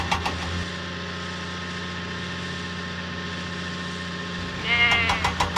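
Goats bleating in a Thomas and Friends train video game, a few bleats at the start and a louder cluster near the end over a steady engine-like game drone.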